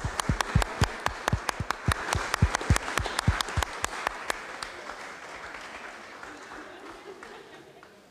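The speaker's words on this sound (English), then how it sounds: "Let's have a big round of applause." Applause at a cricket presentation ceremony in the Long Room at Lord's for the England women's team: dense, close clapping that thins and fades over several seconds, with voices in the crowd underneath.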